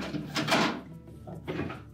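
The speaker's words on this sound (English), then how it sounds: "And then we'll lift out the old ice bucket." An old plastic ice bucket is lifted out of a Whirlpool refrigerator's freezer, giving a few close, short scraping and knocking sounds of plastic sliding free in two bursts.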